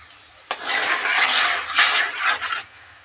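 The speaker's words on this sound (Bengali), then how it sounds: "কাঁকরেলগুলোকে এর মধ্যে আমি একটা একটা করে দিয়ে দেব।" Bitter gourds are dropped one at a time into a pot of salted turmeric water for boiling, making a short run of close clinks and knocks against the metal pot with no talking.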